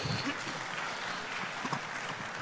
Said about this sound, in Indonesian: aplaus untuk Pak Menteri